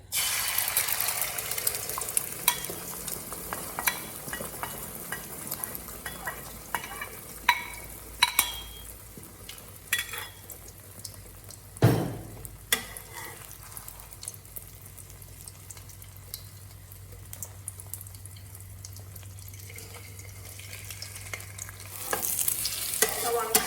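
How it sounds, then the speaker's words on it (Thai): Beaten egg fries in hot oil for a Thai omelette, a steady crackling sizzle with scattered pops and spatters, loudest at the start and after a sharp burst midway, with no talking. "น้ำมันร้อนแล้วนะคะ เราก็จะเทไข่ใส่ลงไปเลย"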